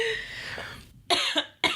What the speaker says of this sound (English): I don't have a cough button, so you're going to have to cough